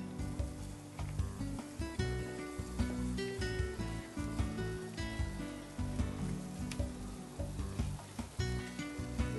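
Cheese sizzles on a hot grill plate, giving a continuous close crackle and hiss with dense pops throughout and no speech over it.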